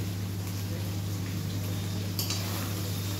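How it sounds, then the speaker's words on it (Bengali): Pumpkin pieces frying in a pan in a home kitchen give off a steady, even sizzle that runs without a break, over a constant low hum. "এখানে কুমড়ো কেটে কুমড়োগুলো এখন ভাজতে দিয়েছে।"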